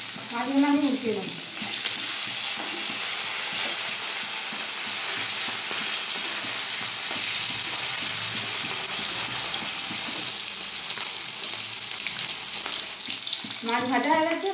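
Hilsa fish pieces sizzle steadily in hot mustard oil in a kadai, a loud continuous frying hiss with occasional crackles that fills the whole stretch, and brief voice bits at the start and end.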